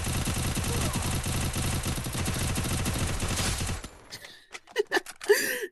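Rapid gunfire rattles in an esports shooter game, dense bursts of shots hammering continuously and loud for several seconds before cutting off, followed by a few short, sharp sounds in near silence.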